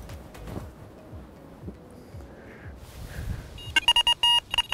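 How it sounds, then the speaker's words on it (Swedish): Beeping electronic bite alarm on a bream fishing rod at night, a rapid burst of loud repeated tones breaking out of quiet low rumble near the end. "så hoppas vi att vi snart vaknar av att larmet tjuter"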